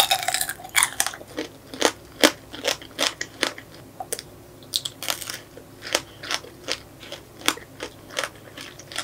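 Close, crisp crunches of teeth breaking through the hard sugar shell of an apple-grape tanghulu, sharp bites followed by steady crackly chewing in an irregular rhythm, intimate and unaccompanied by speech.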